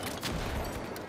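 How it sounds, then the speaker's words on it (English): Grenade launcher fire in the video game The Finals, a dense, continuous burst of loud explosive blasts and gunfire with no pauses, close and overlapping, with no talking. "Just gonna keep shooting a grenade launcher, like, on her."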